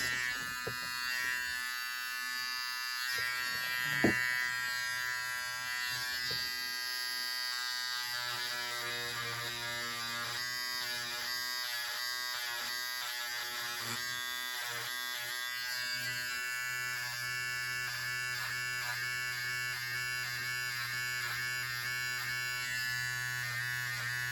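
An electric stitch remover buzzes steadily over a run of stitches, a continuous near hum with a brief sharp knock early on and slight shifts in pitch as it moves along the seam.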